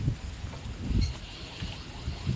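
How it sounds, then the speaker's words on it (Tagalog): Strong wind at a hot spring resort buffets the microphone in low, rumbling gusts that rise and fall over a couple of seconds. "Ang lakas ng hangin."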